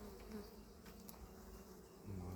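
Honeybees buzz steadily around an open beehive with the queen excluder removed, a continuous close hum of many insects with no talking.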